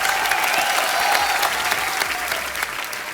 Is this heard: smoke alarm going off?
no